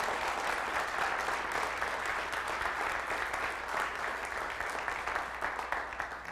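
Church congregation clapping to thank a youth praise team after worship, a dense, steady wash of applause from many hands filling the room and tapering slightly at the end, with no talking over it.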